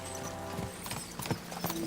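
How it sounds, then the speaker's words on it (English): Horse hooves clip-clop steadily in a video game while the rider travels toward a castle, a faint neigh mixed in over a constant background of game ambience and music. "Horse doesn't go faster"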